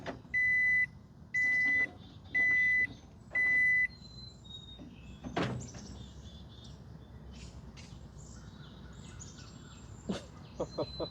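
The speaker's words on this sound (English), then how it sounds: "if you see someone microwaving a disc golf disc in a parking lot" A microwave oven runs in a parking lot, heating a disc golf disc: four evenly spaced, loud electronic beeps open, then a low hum with scattered faint clicks and a brief rustling thud.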